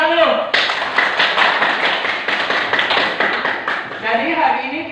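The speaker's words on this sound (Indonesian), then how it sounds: "tepuk tangan dulu" A classroom of children claps together in a dense, steady burst of applause lasting several seconds, with a voice speaking briefly before and after.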